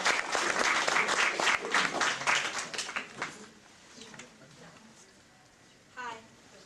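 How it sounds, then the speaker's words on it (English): Audience applause at an Earth Day student speech showcase, steady dense clapping for about three seconds that fades out, followed by quiet room noise and a brief voice near the end. "Give her a round of applause."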